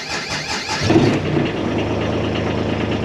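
A car engine cranks with a brief squealing whine, catches, and settles into a steady, even idle that runs on close and moderately loud, with no voices.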